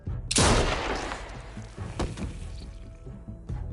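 Video game gunfire: one loud, close blast at the start is followed by a few scattered sharper shots, set over ongoing game ambience.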